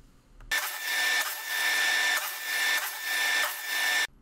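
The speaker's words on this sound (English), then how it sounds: "the Craig Foreman makes short work of putting pocket holes in each end of these pieces" A Kreg Foreman pocket hole machine bores pocket holes into the ends of wooden pieces for a small bathroom vanity, giving one steady close whirring grind of about three and a half seconds with slight pulses in loudness.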